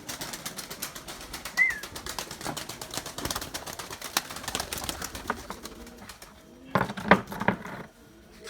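Pigeons in a breeding loft, a dense patter of clicks and fluttering wings close by, with brief coos and a louder burst of flapping near the end.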